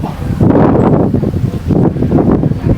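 Strong wind gusting on a hilltop, heavy buffeting rumble against the microphone in close, uneven surges.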